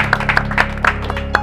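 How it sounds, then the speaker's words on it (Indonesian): Studio audience on an Indonesian comedy talk show breaking into brief applause, with scattered sharp claps over a steady low hum in a short burst. "tepuk tangan dulu dong"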